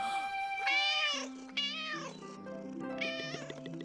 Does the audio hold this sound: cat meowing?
yes